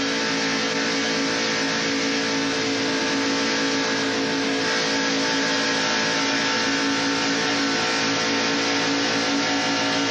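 Race cars at the 1993 Winston 500 stock car race, a steady, dense roar of many engines running close together at speed, loud and continuous throughout with no talk.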